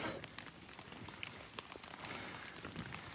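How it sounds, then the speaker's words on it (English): Soft, steady rain patters on a mountain trail with scattered droplet ticks against a faint background hiss, no voices. "Still raining."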